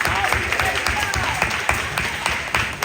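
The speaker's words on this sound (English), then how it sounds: "Everyone, can I see you clapping for our speakers?" An audience at an HBCU guest speaker event claps for the speakers, a continuous wash of many hands with sharper individual claps standing out, moderately loud and without talk on top.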